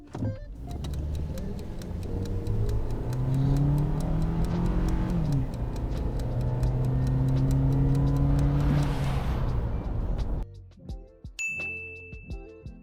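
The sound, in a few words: Suzuki Jimny 3-door accelerating hard from standstill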